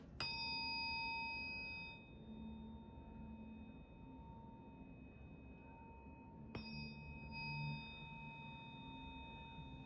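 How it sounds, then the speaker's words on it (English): An energy-clearing tuning fork is struck twice, each strike ringing out in a pure, sustained tone that slowly fades, quiet and close with faint background hum. "energy tuning fork that I'm going to play for us so that we can clear the energy"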